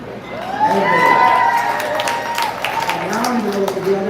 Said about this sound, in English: Make some noise for Louis Fish,